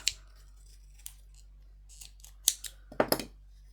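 Scissors snip through crochet yarn with a few sharp close cuts and small rustles, spread over a few seconds in an otherwise quiet room.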